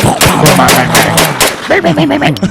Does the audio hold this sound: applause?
no